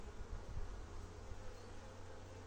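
Honeybees buzz steadily inside an opened hive frame of a split colony that has just raised a young queen, a low continuous hum with no talk.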